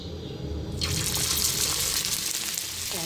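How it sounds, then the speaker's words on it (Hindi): Minced-meat keema tikki is laid into hot cooking oil on a tawa over a low flame. A loud, bright sizzle bursts in abruptly and keeps hissing steadily. "अब जो मैंने कीमे की टिक्की बनाई थी वो इस ऑयल के अंदर मैं रखूंगी।"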